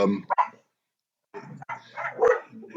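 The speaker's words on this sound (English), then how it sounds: "3 dogs barking at the neighbors when they walk by with their own animals" Three dogs bark at home as neighbors walk past with their own animals: a few close, sharp barks at the start, a pause of silence, then a burst of repeated barking and yips.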